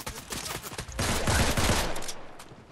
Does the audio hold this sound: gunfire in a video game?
yes